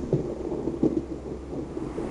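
Thunder sound effect, a low rolling rumble with a couple of soft cracks, steady and moderately loud, no voices.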